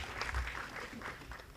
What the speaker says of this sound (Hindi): इसके लिए एक बार फिर से ताली बजानी पड़ेगी।